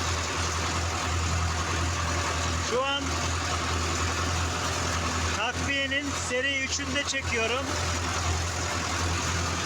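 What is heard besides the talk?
tractor engine working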